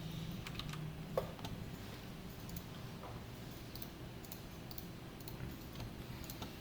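Quiet computer keyboard typing with scattered soft key clicks over a steady low background hum, close and faint.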